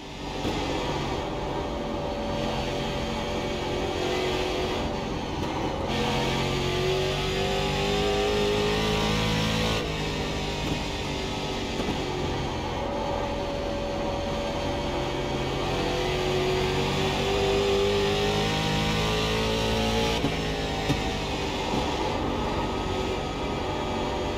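Stock car engine in the iRacing game, a loud continuous drone rising and falling in pitch as it revs through the gears, alone without talk.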